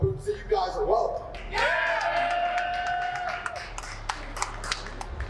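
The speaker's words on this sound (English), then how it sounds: "You all want to clap and cheer now" Audience at a wrestling press conference in Texas claps and cheers under a man's raised, whooping voice, with scattered sharp claps and a steady crowd murmur around a brief spoken shout.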